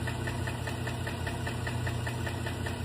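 A faulty GM engine, from a Silverado or Denali-type truck, runs steadily with a rhythmic ticking knock repeating several times per second over a constant close-up drone.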